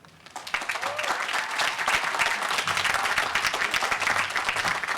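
Loud, sustained applause from a large commencement audience at UCSB fills the space as a speaker is welcomed, rising quickly after a brief quiet start and holding steady with dense clapping and a few cheers.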